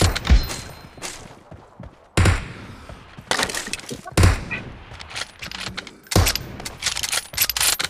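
Sniper rifle shots in PUBG Mobile, in an M24 versus Kar98 match, ring out as four loud, sharp cracks spaced about two seconds apart. Each shot is followed by a short reverberant tail over game background noise.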